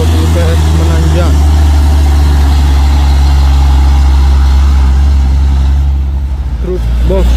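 A 6x2 truck with a 220 PS engine labours uphill, a loud, steady low engine drone close by that eases slightly near the end, with a voice speaking over it.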